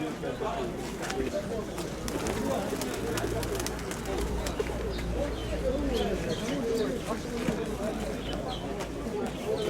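Pigeons coo softly in repeated low rolling calls at a market fair in Dnipro, with scattered chirps and people chatting nearby.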